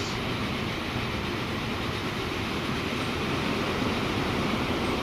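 A Transport Fever 2 train rumbles steadily in the video game, a continuous broadband rolling roar that swells slightly toward the end, with no voices over it.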